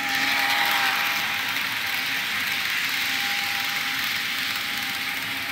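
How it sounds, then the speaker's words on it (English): A model train's SD locomotive runs with a constant whining, hissing motor noise, steady and fairly close, along with a faint high tone and no talking. "the only downside of this SD engine is the noise"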